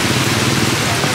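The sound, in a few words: rain falling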